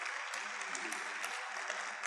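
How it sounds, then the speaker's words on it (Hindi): An audience at a live speaking event at a festival applauds steadily, a dense wash of clapping that fills the space without pause. "यार ताली होनी चाहिए।"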